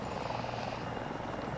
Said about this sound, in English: I'm gonna fly the chopper